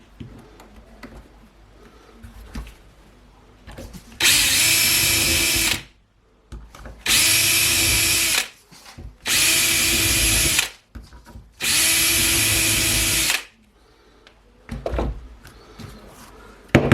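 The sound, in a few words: power drill drilling holes for drone frame repair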